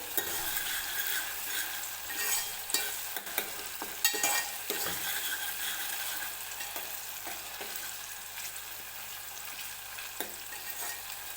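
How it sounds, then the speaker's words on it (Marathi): Tomatoes sizzle and crackle in hot oil in a pan, a continuous hiss with occasional stirring clatter, moderately loud with no voices. "त्यासाठी व्यवस्थित टोमॅटो तेलामध्ये भाजून घ्यायचा आहे"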